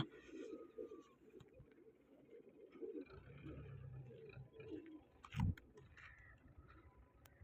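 Pigeons coo softly and flutter in summer weather, with low murmuring coos, a sharp wing flap or knock midway, and faint background activity.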